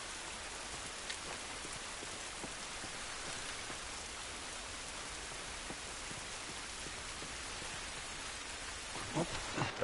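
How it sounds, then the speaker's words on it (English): Steady rain falls outside in The Last of Us, a dense even patter of drops on surfaces heard alone at moderate level, with a few slightly louder splashes near the end. "This rain ain't gonna do us any good."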